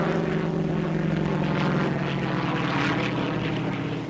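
Steady, loud propeller-airplane engine drone holding a constant roar throughout a landing, heard alone with no voices over it, in a French radio-drama sound effect.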